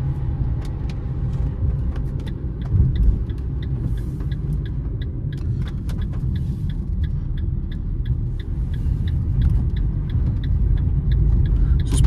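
A 2023 Fiat Mobi Like 1.0 rolls through town and over a speed bump, with a loud low road rumble inside the cabin and a run of regular clicking ticks throughout.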